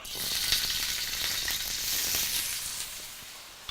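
Lemongrass and ginger sizzle loudly in a hot wok for a stir fry, a dense, continuous close frying hiss that swells slightly midway, with no talking.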